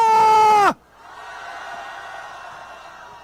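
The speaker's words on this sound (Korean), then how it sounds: "자, 함성 한번 질러봅시다" A rally crowd at a candlelight protest gathering in Seoul lets out a brief loud shouted cheer that cuts off sharply, followed by a lower, steady crowd murmur and noise.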